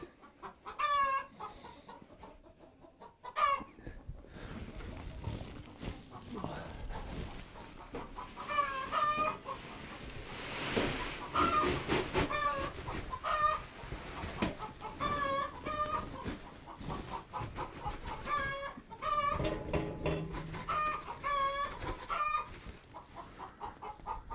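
Hens cluck repeatedly around an old feeder, their short rising calls coming in scattered bursts near and moderately loud over rustling and handling noises.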